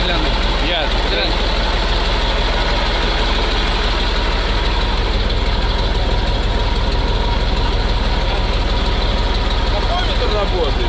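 A MAZ truck's engine, started after 15 years of storage at a military unit, idles loudly and steadily up close with a rough, even low rumble while people talk over it.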